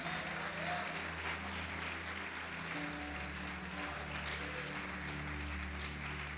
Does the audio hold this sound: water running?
no